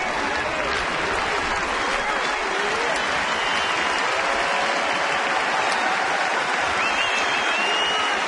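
A sellout crowd of over 40,000 at a 2010 Seattle Mariners at Minnesota Twins baseball game applauds in a loud, steady, unbroken roar, with a commentator's voice faintly underneath.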